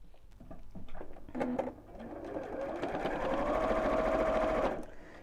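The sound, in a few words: sewing machine stitching fleece with a universal needle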